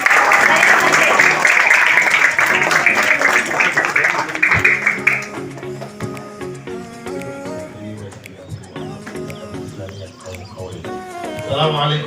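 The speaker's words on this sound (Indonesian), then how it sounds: "Beri tepuk tangan untuk Bapak Deno Panjaitan." An audience at an Indonesian breaking-fast and victory celebration gathering applauds loudly and steadily for about five seconds before it ends and voices and background music take over.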